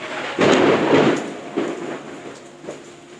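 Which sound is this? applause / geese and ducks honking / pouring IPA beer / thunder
thunder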